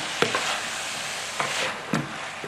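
Garlic salt being stirred into a hot stuffed marrow filling in a pan, with a constant sizzle and three distinct scraping strokes of the spoon, close and fairly loud.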